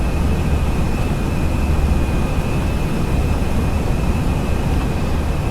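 An Airbus A320 in the FSLabs flight simulator banks through a turn, its jet engines giving a steady, even broadband roar with a thin constant tone above, no voices.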